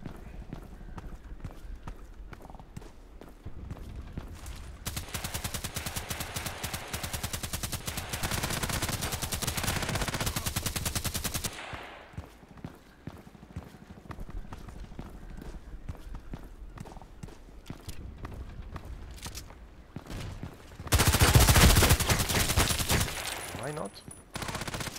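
Long bursts of rapid automatic fire from an SR3M rifle in a video game rattle in two main stretches, with quieter scattered shots and game noise in between.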